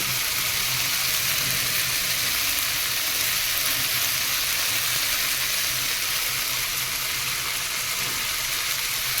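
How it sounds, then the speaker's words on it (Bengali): Ginger, garlic, green chilli, onion and tomato fry in oil with turmeric for a thin rui fish curry, producing a loud, dense, unbroken sizzle close by with faint stirring underneath. "আদা রসুন কাঁচা লঙ্কা পেঁয়াজ ও টমেটো সুন্দরভাবে ভাজা হয়ে গেছে এবার আমি এতে হলুদ দিয়ে দেবো"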